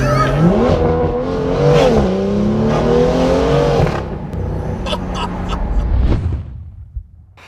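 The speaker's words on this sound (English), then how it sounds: "This is the UK's first full IP exhaust BMW M2." A BMW M2 fitted with a full iPE exhaust roars loudly up close, revving and accelerating with rising and falling engine tones, then fading as it settles, with crackles near the end.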